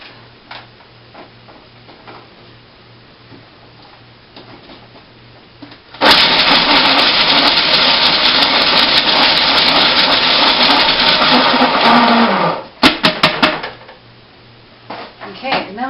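A countertop blender grinds hazelnuts in one loud, steady roar of about six seconds, the pitch dropping slightly as the nuts break down, then a few sharp rattles and clicks as it stops amid quiet kitchen ticking.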